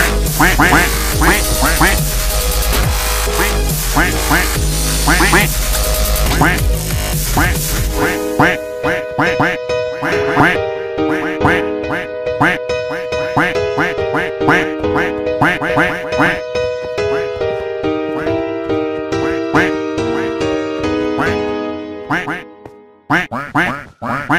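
A voice imitates a duck's quack over loud, steady game music from Minecraft Bedrock Edition, with the quacking mixed under the dense sound throughout.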